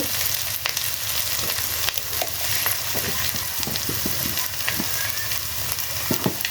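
Steady sizzling of ginger and garlic frying in a pan on a clay stove for mutton curry, with occasional clinks and scrapes of stirring; close and continuous, no talking.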